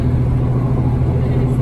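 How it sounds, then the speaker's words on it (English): Inside a big truck giving a hitchhiking ride out of Leavenworth, Washington, the engine runs in a steady, loud, low rumble that fills the cab with no change in pitch. "We just got a hitch out of Leavenworth with Eddie here in his big truck"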